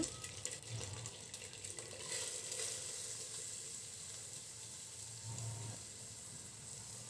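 Chopped onion and a little garlic frying in oil in a pan during biryani preparation, a soft continuous sizzle with occasional stirring scrapes, faint and steady.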